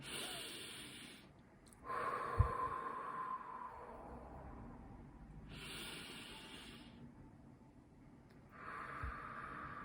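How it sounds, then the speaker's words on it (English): Slow, deep breaths drawn in and let out through the nose, close and quiet, with long hissing inhales and pauses between them. "I want you to literally take a deep breath"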